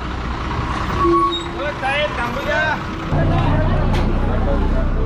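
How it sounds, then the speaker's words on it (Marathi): A vehicle carrying visitors to the Dattatreya temple at Mahur settles into a steady, low engine rumble partway through, after a stretch of nearby voices and background bustle. "ही गाडी आपल्याला दत्तात्रयांच्या मंदिराकडे घेऊन जाईल"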